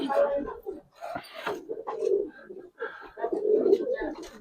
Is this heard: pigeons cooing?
yes